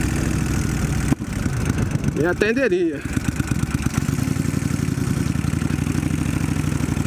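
A Kawasaki Vulcan 1500 motorcycle idles with a steady, even low rumble that runs the whole time, while someone talks over it.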